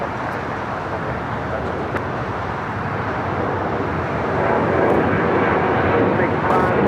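Jet airliner taking off from LAX, a steady broad engine roar that stays loud and swells slightly toward the end, heard from a distance with no talk over it.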